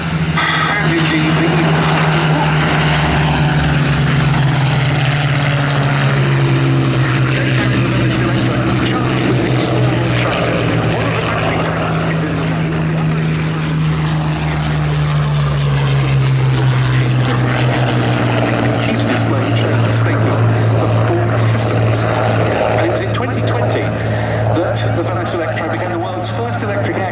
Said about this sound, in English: our 3 Spitfires getting airborne from the grass, 2 Mark 5s and the Mark 8